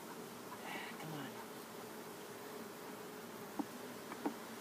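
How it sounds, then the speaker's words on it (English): A steady, faint hum of honeybees buzzing around an opened hive, with a couple of small clicks near the end. "there's a bunch of bees coming back to drop off their stuff"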